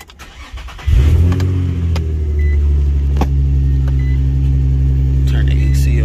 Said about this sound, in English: About to start the car.